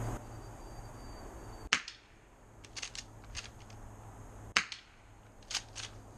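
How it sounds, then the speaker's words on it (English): An airsoft Master Key shotgun fires twice, each a sharp snap followed by the rattle and clack of pellets striking a target a moment later. "This will be the first time I'm ever shooting it."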